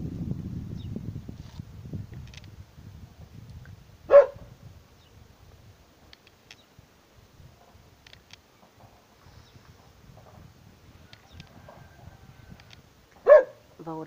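A dog barks twice, single sharp barks spaced far apart, over a quiet background with faint low rumbling at the start.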